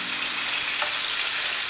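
Pork neck roulades dusted in flour fry in a pan, giving a loud, continuous close sizzle and crackle with no one speaking.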